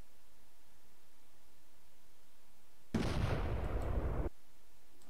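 A bomb explodes on a plane in the Roblox video game, a sudden loud burst of noisy roar that holds for over a second and then cuts off abruptly, with quiet before and after.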